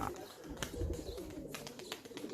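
A female homing pigeon coos, a soft low burbling call under faint background bird chirps and ambient noise, moderately close, with no talk.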